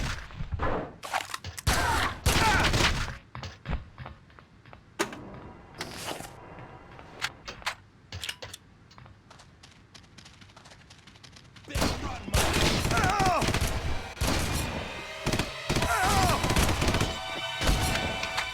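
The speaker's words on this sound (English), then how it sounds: "So the subgun can fire either light rounds, which are your pistol rounds, or rifle rounds." Subgun fire in the video game Red Faction, with rapid bursts and single shots in clusters, loud and close, plus mechanical clanks and sustained heavy gunfire toward the end.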